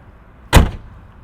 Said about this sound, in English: Upon opening the door